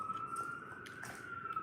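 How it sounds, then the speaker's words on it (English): Emergency vehicle sirens wail in the distance, a faint sustained tone drifting under steady background noise and traffic rumble. "again with the sirens"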